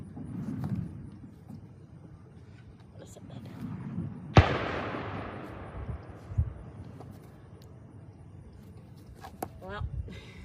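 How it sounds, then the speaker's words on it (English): A single loud gunshot cracks at a farm with animals, a sharp report that rings out and decays over several seconds amid faint background sounds and quiet voices. "That was pretty rough having the gunshot there"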